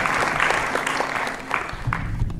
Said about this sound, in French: Là, eux, vous pouvez vraiment les applaudir